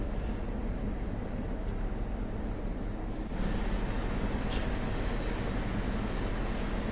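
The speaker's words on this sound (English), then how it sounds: "I love the sound of it going over the point work." Train wheels rolling over pointwork in Train Sim World 3, a steady loud rumble with faint rhythmic clicks running throughout and no talk.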